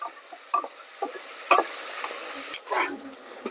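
Shallots, green chili, onion and curry leaves sautéing in oil for beef kuruma, a light sizzle punctuated by irregular spatula scrapes and clinks against the pan, heard alone without voices.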